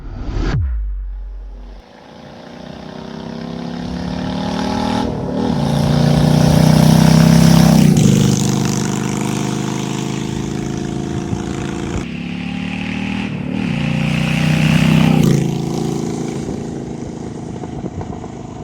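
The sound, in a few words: Honda Shadow bobber motorcycle engine being ridden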